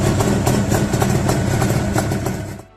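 A Yamaha RD400 two-stroke twin motorcycle engine runs with a loud, raspy, buzzing drone and quick pulsing, holding steady before cutting off abruptly at the end.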